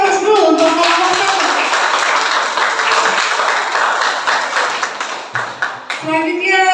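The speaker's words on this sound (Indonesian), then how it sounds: "Kita kasih aplaus dulu untuk kelompok 1" Classroom applause for a presenting student group during a biology teaching-practice session, a steady dense wash of clapping lasting several seconds, with a teacher's voice heard at the start and end.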